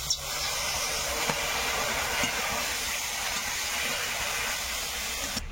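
Water poured into a pan of frying bitter gourd and potatoes, producing a loud, steady broad hiss and sizzle of steam that holds evenly for several seconds, close and without talk.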